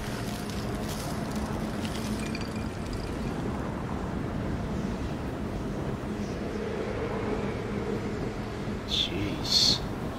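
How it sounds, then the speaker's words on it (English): Steady roar of wind blowing high up in the video game Gotham Knights, a continuous broadband rush throughout with light game sounds and a brief chime near the end. "It's gotta be close, because this is fucking windy up here."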